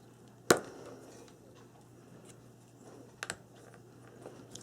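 Craft knife cutting cardboard pieces for a camera album box, heard as a sharp close snap followed later by a few quieter scraping cuts over a faint background hum.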